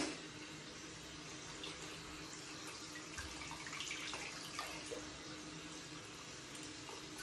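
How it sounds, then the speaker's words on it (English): A gua sha facial tool rinsed under a running tap, with steady, fairly quiet splashing water throughout and no speech. "I'm rinsing a lot because don't want any residue."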